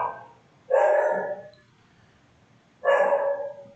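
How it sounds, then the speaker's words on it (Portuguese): A dog barks indoors twice, loud and close, each bark a sustained, somewhat whining yelp separated by a couple of seconds of quiet. "desculpem, gente, o cachorro aqui."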